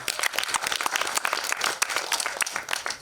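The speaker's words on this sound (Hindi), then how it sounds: "तो फिर से जोरदार तालियां।" An indoor audience at a film trailer launch applauds, dense close clapping that stays steady and loud for the whole stretch with no voices on top.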